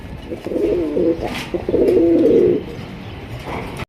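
Beauty pigeons coo in low, throaty, rolling phrases, two main bursts close by, over a steady background hiss.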